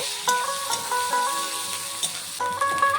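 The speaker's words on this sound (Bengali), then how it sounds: "পেঁয়াজটাকে একটু ভেজে নেব।" Chopped onion frying in oil with whole cloves, cardamom and cinnamon for a home-style chicken curry: a close sizzle under repeated spatula scrapes and clinks against the pan, with no talking.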